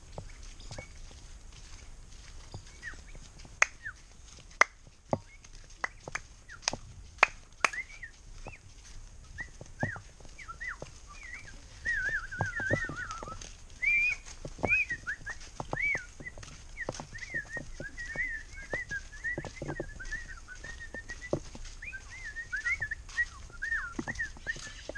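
A flock of birds arrives outdoors where mamón fruit is being cut in El Salvador, giving scattered chirps and calls that build through the second half, with sharp intermittent knocks and rustles throughout.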